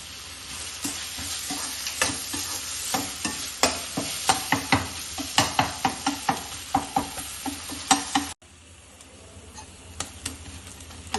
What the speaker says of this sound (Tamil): தக்காளி வதங்கிட்டு இருக்கும் போதே நான் இஞ்சி பூண்டு பேஸ்ட் போட்டுக்கிறேன்